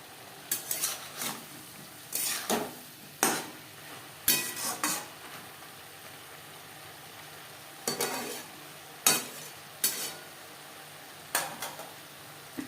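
Flat beans and bottle gourd peel being stir-fried in a pan, heard as repeated short bursts of spatula scraping against the metal over a soft, steady sizzle, with no voices.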